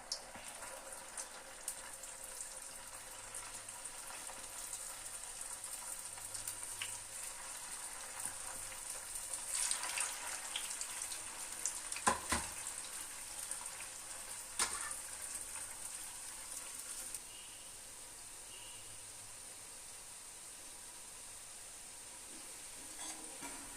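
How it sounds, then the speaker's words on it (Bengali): Steady hissing sizzle of carrot langcha sweets frying in hot oil, with a few brief louder crackles partway through and no talking. "আমি ল্যাংচাগুলোকে একে একে তেলের মধ্যে দিয়ে দেবো"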